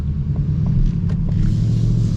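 A 2022 Ford Mustang GT Performance Package V8 rumbles deeply and steadily while driving in traffic, a loud continuous low engine drone heard from inside the car.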